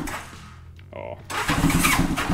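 A Honda Goldwing motorcycle engine is cranked with a little choke, faint starter whir and a short high whine, before it catches and runs loud and steady up close.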